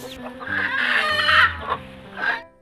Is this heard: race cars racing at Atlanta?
no